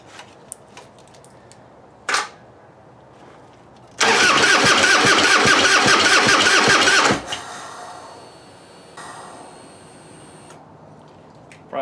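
A Harley-Davidson Heritage Softail, fresh crank sensor fitted, sputters through a brief cranking attempt before catching into a loud three-second burst of engine clatter that cuts off abruptly, followed by faint mechanical ticking and a short whine.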